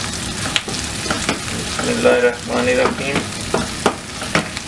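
Ginger and garlic paste frying in oil for a capsicum and potato curry, a steady sizzle broken by repeated scraping stirs of a spoon, with a voice speaking briefly over the cooking.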